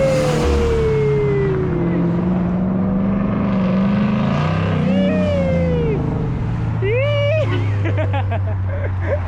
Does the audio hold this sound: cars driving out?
yes